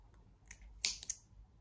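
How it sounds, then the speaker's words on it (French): Small scissors snipping a piece of thread indoors, a few quiet, sharp clicks close together, with no talking. "Les petits ciseaux comme ça."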